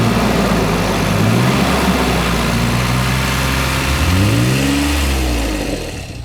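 A Toyota Prado engine running with a new, unfamiliar sound while driving, a loud close drone with revs rising and falling in sweeping waves before easing off at the end.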